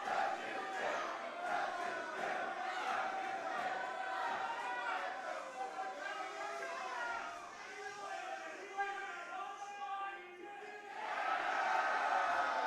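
A wrestling crowd at an intergender tag match chants in loud, rhythmic unison, with massed voices swelling and dipping throughout and rising again toward the end.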